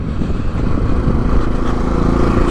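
A Yamaha XT660Z Tenere single-cylinder motorcycle on a test ride after a new chain and sprockets, its engine droning loud and close in a steady, slightly uneven thrum with no talk.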